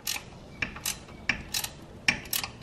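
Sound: ratchet wrench removing hub assembly bolts

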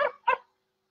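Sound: person imitating a dog barking

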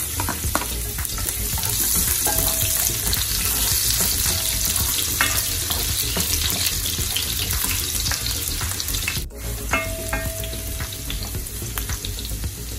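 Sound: garlic frying in cooking oil

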